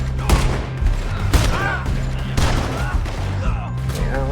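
Gunshots crack in Red Dead Redemption 2, four or five loud, sharp reports spaced about a second apart over game ambience, with a voice faintly underneath.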